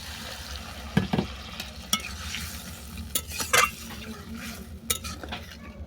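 Curry stirred in a hot pan as water is added, producing a soft sizzle with scattered metallic scrapes and clinks of a spoon against the pot, close and fairly quiet.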